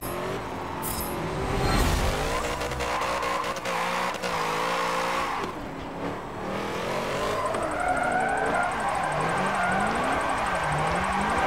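A car drifting through a drift race on the Bernese Alps course in Forza Motorsport 7, the engine revving and wailing up and down continuously with sliding tire squeal, loud and close throughout, no talk.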